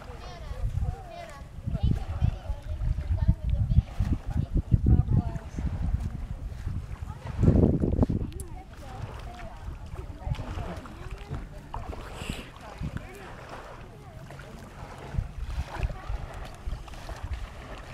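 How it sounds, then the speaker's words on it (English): Kayak out on the water on an afternoon outing, with uneven sloshing paddle strokes and splashes over wind buffeting the microphone, a louder splash burst midway, and people talking intermittently. "a little bit of Saturday afternoon kayaking"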